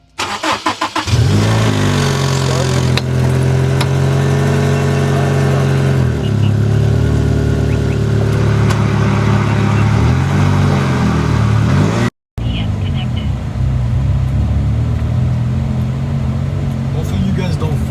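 A Honda S2000 fitted with a short shifter runs loud and close, its engine droning and changing pitch as gears shift, with a brief cut near the end while someone talks over it.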